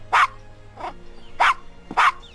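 A dog in the Gabriel Knight: Sins of the Fathers adventure game gives four sharp, evenly spaced barks, loud and close, with no other sound between them.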